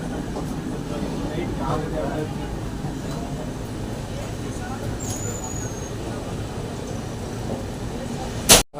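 Continuous low rumble of a train rolling into a station, steady and fairly loud, with a brief high squeal midway and a sharp knock at the end.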